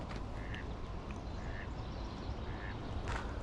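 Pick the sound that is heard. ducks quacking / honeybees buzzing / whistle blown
ducks quacking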